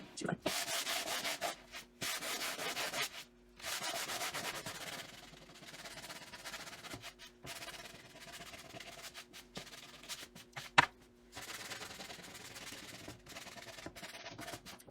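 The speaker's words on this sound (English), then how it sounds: "and then I would come in and sand my letters at the end" Sandpaper is rubbed by hand over a painted wooden porch sign, giving a close, gritty scratching in repeated back-and-forth strokes with short pauses between passes.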